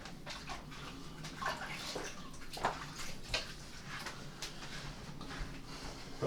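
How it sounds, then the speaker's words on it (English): Hands washed under a running tap in a home kitchen, steady water flow with splashes and small knocks, close by, without speech. "Just wash my hands."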